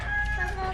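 Pet chickens cluck briefly up close in a backyard while being fed, with a low rumble underneath.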